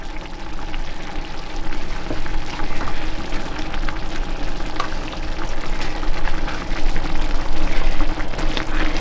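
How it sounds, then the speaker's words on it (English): A pan of sweet and sour sauce bubbles and simmers steadily, with scraping and clinking as it is stirred, continuous and close with no talking. "I'm going to put it right into this boiling mixture and give it a really good stir."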